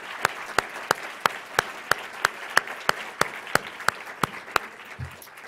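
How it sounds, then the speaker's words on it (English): Regular, evenly spaced claps, about three per second, at a conference session, distinct and rhythmic over a soft background of scattered clapping before stopping. "give them a round of applause"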